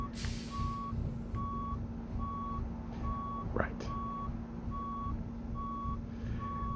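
A truck in American Truck Simulator sounds a steady series of evenly spaced reversing beeps over a constant engine drone, with a brief air hiss and a short spoken word.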